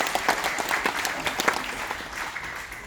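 A seated audience at a morning forum breaks into steady applause, a dense even patter of many hands clapping with no voices over it.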